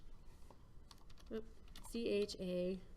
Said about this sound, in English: I can type chamfer